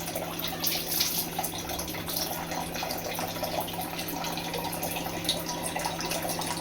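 Tap water runs steadily from a home faucet during a water purifier check, a continuous, moderate splashing hiss with no pauses and no voices.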